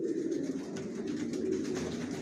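Young racing pigeons in a loft give a steady, low, throaty cooing that runs without pause through the whole short stretch, close by and fairly soft.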